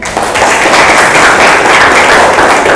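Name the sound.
audience applause in a classroom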